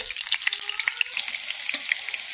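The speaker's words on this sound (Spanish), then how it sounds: "Y una vez que los chiles empezaron a sofreír, vamos a empezar a agregar las calabazas." Chiles frying in hot oil for a salsa crackle and sizzle steadily at close range, with a few sharper pops and light stirring and no voices.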